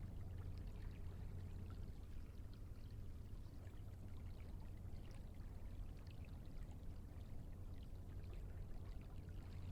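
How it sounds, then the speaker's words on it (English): Water trickles softly and steadily into a hot spring pool, a faint, continuous pouring hiss with no voices. "The only sound is the trickling of the water, running softly to fill the hot springs with fresh, hot water"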